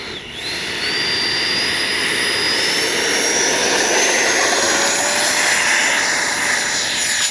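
An FMS 70mm F-18 RC jet takes off, its electric ducted fan giving a loud, steady, high-pitched whine that swells into a sustained roar. A rising tone sweeps upward as it gains speed, with no voices.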